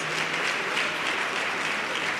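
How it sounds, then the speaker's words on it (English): An audience at a Free State 2024 NSC pledge signing ceremony claps steadily, a brief, even patter of applause at moderate distance with no voices over it. "A great round of applause."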